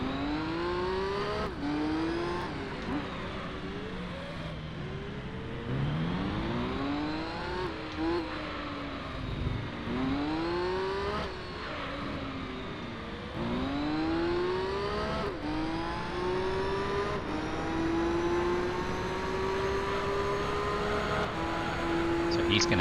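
A Mazda race car engine screams in Gran Turismo 3, rising and falling in pitch through repeated upshifts and downshifts, loud and continuous under occasional commentary.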